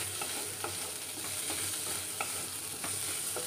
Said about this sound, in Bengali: চিংড়ি মাছের মধ্যে পেঁয়াজগুলো দিয়ে দিচ্ছি, পেঁয়াজগুলো দিয়ে ভালো করে নেড়ে নিলাম।